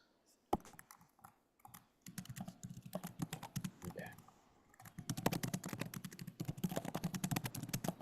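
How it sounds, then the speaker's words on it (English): Rapid clicking keystrokes on a computer keyboard, dense and continuous, close by, with a brief pause midway and faint voices underneath. "Who's typing an essay? Oh, that was me."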